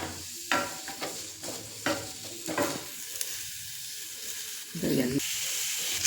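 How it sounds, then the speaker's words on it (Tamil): Onions sautéing in a hot pan for a cooking dish: soft sizzling and frying under a few louder stirring scrapes and clinks, with a brief burst of heavier sizzle near the end. "அடுத்து இந்த கொஞ்சம் போல் வெங்காயம் வதக்கிடலாம்"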